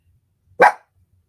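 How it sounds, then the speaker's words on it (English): A dog that wants to go out lets out one sharp, close bark in an otherwise quiet room. "Sorry, my dog's wanting to go out again."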